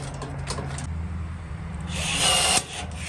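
A Milwaukee 12-volt cordless rivet gun setting a pop rivet on a roller shutter spring: a steady motor whir that rises into a brief, louder strained burst as the rivet pulls, then drops off.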